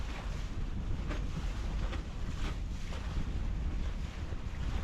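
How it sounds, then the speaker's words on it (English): Sailboat tacking up a bay at about six knots in strong wind, with a loud, constant rush of wind buffeting the microphone over water noise and occasional gusty swells. "Now we're cruising along 6 knots, just tacking our way up the bay."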